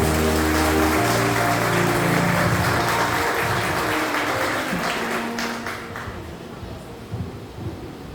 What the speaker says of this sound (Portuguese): Uma salva de palmas aos pais que estão no céu.